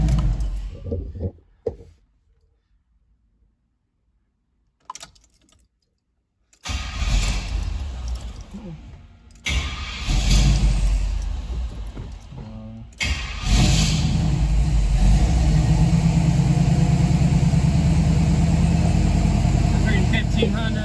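A 1978 Pontiac Firebird V8 with a FiTech EFI setup starts and runs, its engine dropping out briefly before catching again and settling into a loud, steady idle with occasional revs, close to the car.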